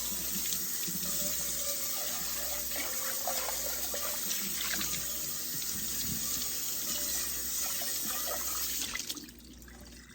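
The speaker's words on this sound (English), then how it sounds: "the inside of my pan and the outside. Going to rinse it." Running tap water splashes steadily into a sink while a Pyrex pan is rinsed beneath it, a close continuous wash that cuts off abruptly near the end.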